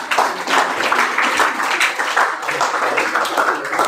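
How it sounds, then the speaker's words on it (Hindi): A classroom of students claps for a fellow student, brisk uneven clapping from many hands that stays close and loud throughout with no talk. "बच्चे के लिए फिर से एक बार ताली बजाओ।"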